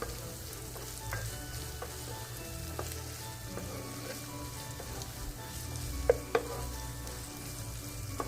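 Virginia ham being sautéed in a pan gives a steady, moderately loud frying sizzle throughout, broken by a few brief utensil taps and scrapes near the end, with no voices.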